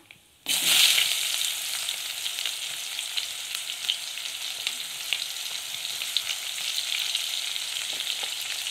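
Chopped onions tip into hot oil already holding whole garam masala and cumin, bursting into a loud sizzle that settles into a steady, close frying hiss with faint stirring scrapes and no voices.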